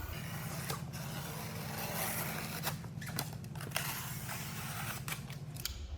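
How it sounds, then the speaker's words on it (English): A box cutter slices along the stapled edges of a cardboard shipping box for a security pole, giving a continuous scraping rasp with a few sharper strokes and a low rumble underneath. "just take a box cutter and you'll just cut about a 1/2 inch from the edge on every side with the staples"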